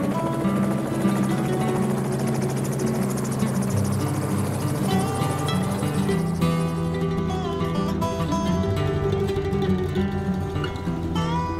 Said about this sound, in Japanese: この場所から離陸着陸するヘリコプターに乗りに来ました。